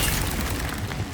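A deep booming blast from the Bombarda spell in Hogwarts Legacy, one dense rumbling burst that fills the moment with low-end roar and crackling spread.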